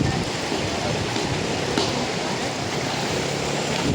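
River water rushing at a river crossing, a steady broad wash of flowing water heard up close without any talk.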